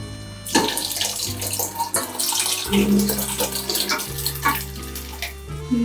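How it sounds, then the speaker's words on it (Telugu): A glass of water runs and pours steadily into a vessel, a continuous splashing rush with small shifts in pitch as it fills. "మళ్ళీ 1 గ్లాస్ వాటర్ పోస్తున్నా అంతే"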